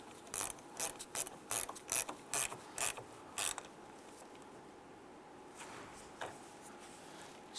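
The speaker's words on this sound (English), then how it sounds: "Go ahead and tighten down our bolt here" A ratchet wrench tightens a battery terminal bolt on a 2002-2008 Dodge RAM in a quick burst of about eight sharp clicking strokes, close and crisp, then quiet with a couple of faint clicks.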